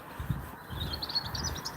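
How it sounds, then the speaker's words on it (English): Birds sing outdoors on a walk after weeks of snow and frost, a faint cluster of high chirps and warbles repeating over low steady rumble, distant and soft. "we hear the birds singing"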